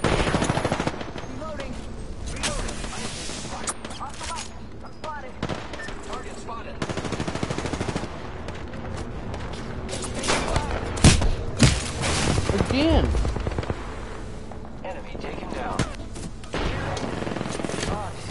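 Apex Legends gunfire with a Kraber sniper rifle among other weapons, sustained bursts of automatic fire and heavy booms across a loud firefight, with players' voices talking over parts of it.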